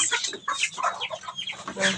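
Chickens cluck busily at feeding time, with dense overlapping clucks and squawks close to the microphone throughout.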